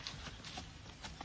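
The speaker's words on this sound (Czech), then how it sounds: "Krásný koně. Brauny mám nejradši." Bay horses pulling a horse-drawn carriage clip-clop in a soft, irregular rhythm of hoof strikes, faint and somewhat distant with no talk over them.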